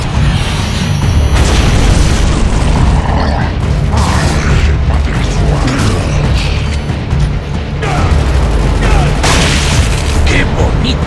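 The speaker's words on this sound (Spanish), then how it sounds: "¡Lanzando granada!" A thrown grenade explodes in Gears of War: Judgment, a heavy booming blast amid dense rumbling game combat and clanking mechanisms, with voices talking over the action.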